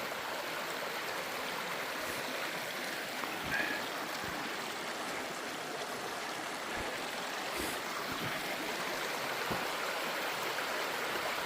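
A small stream runs along a hiking trail on the Appalachian Trail, a steady broadband rush of flowing water that continues unbroken throughout, close and even, with no talk.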